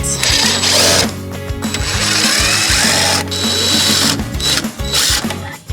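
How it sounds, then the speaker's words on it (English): A T25 Torx driver loosens screws on the outer plate of a DeWalt DWS779 miter saw, giving a loud, steady mechanical whir in bursts with brief pauses between runs. "We're going to use our T25 to loosen these 3 screws on the outer plate."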